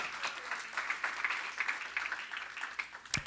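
A church congregation clapping during a sermon, a busy mass of hands forming a continuous, fairly soft rattle at a distance, with a brief louder thump near the end.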